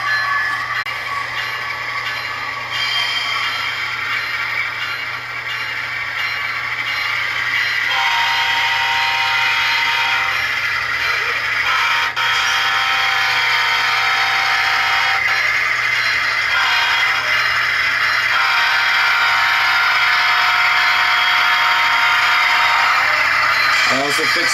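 Model freight train running along the track of a CSX/FEC layout, a steady electric motor hum and rolling noise lasting the whole stretch, with tonal horn-like sounds and a voice talking over it.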